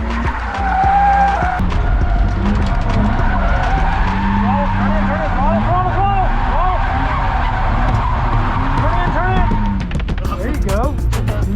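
A car drifts in donuts on a track, its engine roaring steadily while the tires squeal and skid in repeated wavering screeches, loud and close, with a voice briefly audible under the noise.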